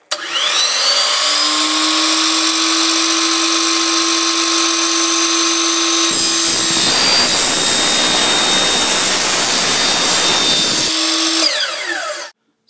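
A loud power tool with a laser guide trims a length of PVC pipe, a high steady motor whine that drops into a rougher grinding cut midway before whining on and spinning down.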